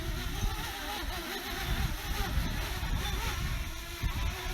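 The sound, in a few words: DJI Mavic Mini drone flying in high winds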